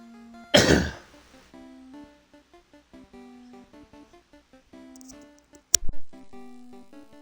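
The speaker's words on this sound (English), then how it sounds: "I had to clear my throat there for a minute" A single loud, harsh throat-clearing rasp, then quiet tonal background, and a second sharp clearing burst near the end.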